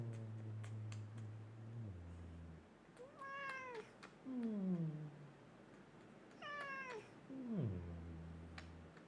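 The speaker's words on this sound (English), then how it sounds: "There might be a cat in the background, though. You might just hear some meowing." A house cat meows repeatedly in the background of an indoor room, several drawn-out, wavering cries with rising and falling pitch, fairly faint and separated by short pauses over a low steady hum.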